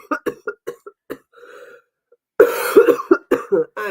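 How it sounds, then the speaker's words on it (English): A person coughs in a loud, harsh fit of repeated bursts, with a few quieter coughs and a throat noise before the longer, rougher spell. "I cough so much."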